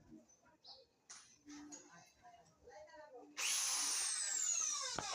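Bosch drilling machine boring a hole, starting suddenly after a stretch of quiet talk and then running loud and steady with a high whine to the end.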